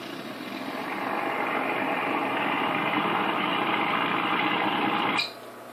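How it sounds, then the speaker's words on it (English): WWII A6M2 fighter plane engine in Garry's Mod, a steady whirring propeller-engine drone that builds slightly then cuts off abruptly near the end, leaving a quieter hum. "And now let's start her up."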